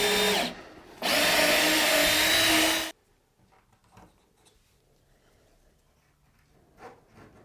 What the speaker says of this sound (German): ich bohre jetzt mit so einem kleinen Handbohrer vorsichtig durch und dann von unten hoch